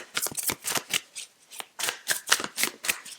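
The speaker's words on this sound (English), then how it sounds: "Let's get the overarching tarot card out for you." Tarot cards shuffled by hand, about a dozen quick, crisp riffles and slaps in an uneven rhythm, close and fairly quiet, with no talk.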